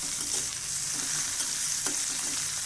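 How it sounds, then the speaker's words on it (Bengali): Onion, garlic and ginger fry in hot oil in a pan for a thin dal tempering, a steady close sizzle and crackle with a few soft stirring scrapes and no talking. "ডালটা বাগারে দেবো সেই জন্য পেঁয়াজ রসুন আদাটা সুন্দর করে ভেজে নিচ্ছি"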